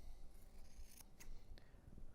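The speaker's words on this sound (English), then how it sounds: "Just with a sharp pair of scissors, just trim all the way around the umbrella." Sharp scissors trim around the hard umbrella edge at the bottom of a silicone prosthetic limb liner, giving quiet, close snips and scraping cuts spaced unevenly over a soft background hiss.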